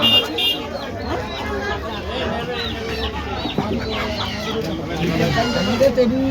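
Chickens cluck and squawk repeatedly nearby while people talk over the busy, crowded background.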